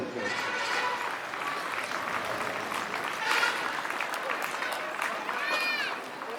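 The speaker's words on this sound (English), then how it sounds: "let us all clap our hands for our dear sisters" During the closing ceremony of an annual school sports meet, an audience claps for guests in a steady wash of applause, with melodic tones and voices sounding through it and a brief surge midway.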